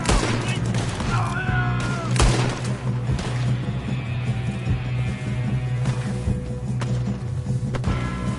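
Gunshots in Red Dead Redemption 2 during a shootout, scattered sharp cracks at close to middle distance over a steady background hum, with a little talk mixed in.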